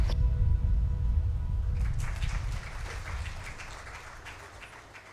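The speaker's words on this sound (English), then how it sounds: "It's a round of applause once again," An audience at an NGO HR summit applauds, a broad patter of clapping that swells early over a low rumble and then gradually fades away.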